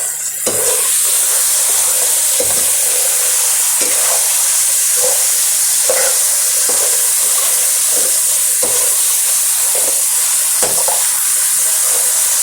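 Chicken frying in masala for Chinese biryani gives off a loud, steady sizzle and hiss, with stirring scrapes repeating about every second or two throughout and no voices.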